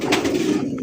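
Pigeons cooing at a crowded pigeon market, a steady close murmur of soft coos with a faint higher call near the start.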